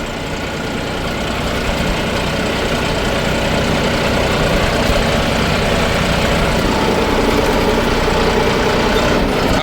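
A John Deere 5075E CRDI tractor pulling a Lemken Juwel 6M moldboard plough works steadily nearby, its engine giving a continuous heavy drone at a constant load with no talking.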